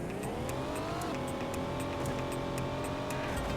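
Car engine in Knight Rider 2 droning steadily at close range, pitch rising then holding, with a constant rumble and no talk.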